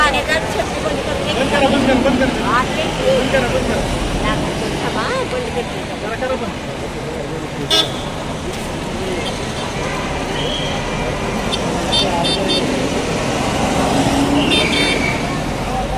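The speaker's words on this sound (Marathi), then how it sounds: "थांबा 2 मिनिटं गाड्या जाऊ द्या" Cars and buses pass on a busy road, giving a continuous engine rumble, a short horn toot and a noisy passing swell, while people talk nearby.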